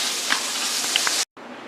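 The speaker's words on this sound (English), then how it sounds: "let me get the turkey nuggets out the frying pan" Turkey nuggets fry in a pan with a loud, steady hiss and sizzle and a few pops, cutting off briefly before the sizzling resumes, close and with no talking.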